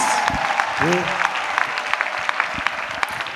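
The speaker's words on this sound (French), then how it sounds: "Let us clap for Jesus." A church congregation claps together in a steady, fast ripple of applause, with voices mixed in beneath the clapping.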